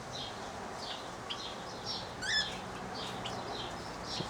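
Small aviary birds, including turquoisine parrots, give repeated short high chirps and calls close by, with a brief flurry of wing flaps midway over a steady low background hiss.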